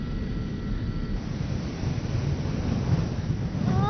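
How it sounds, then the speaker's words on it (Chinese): An airliner taking off, heard from inside the cabin: a steady, dense roar of engine and airflow noise that builds slightly toward the end, with no talk. "飞机正在起飞呢。"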